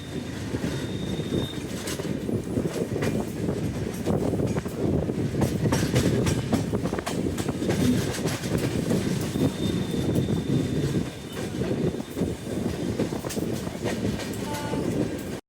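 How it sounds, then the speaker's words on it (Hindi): The Capital Express passenger train rolls into Barsoi Junction with a steady rumble and rhythmic clatter of wheels on rails, heard from on board, loud and continuous throughout. "ट्रेन एंटर कर रही है बरसोई जंक्शन के अंदर"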